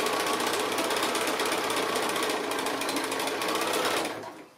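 A sewing machine runs zigzag stitching along a 2 1/2 inch fabric strip for a hanging pocket, a loud, fast, continuous mechanical whir that winds down at the end.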